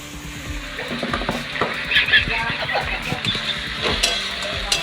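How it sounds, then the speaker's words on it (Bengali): Chopped onions sizzle in a pan for a meat dish, with steady frying crackle and some stirring scrapes heard up close over a few seconds. "পেঁয়াজটাকে ভাজছি মাংসের জন্য।"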